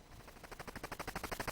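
Rapid automatic gunfire from the NES video game Cobra Triangle, a fast, evenly spaced stream of sharp bursts that grows steadily louder, heard faintly and alone.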